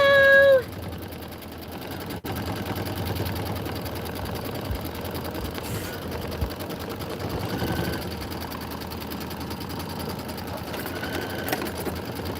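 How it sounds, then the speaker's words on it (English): An Aveneer Lumina sewing machine stitches quilt sashing with a continuous fast mechanical whir and hum that runs steadily after a brief tonal beep at the start, close and without speech. "All right, we're ready to stitch."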